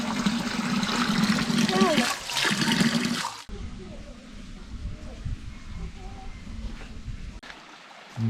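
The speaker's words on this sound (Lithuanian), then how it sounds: "Bėga upeliukas, va." Water from a small stream rushes and trickles near a monastery in the Moldovan countryside, loud and near at first and then softer and more distant, with people talking over it.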